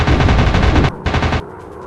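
Machine gun fire from an enemy plane in an air combat flight simulation game: loud, dense rapid bursts, a long volley, a brief pause, then a second shorter burst before it cuts off.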